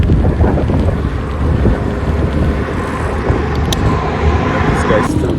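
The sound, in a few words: wind blowing on microphone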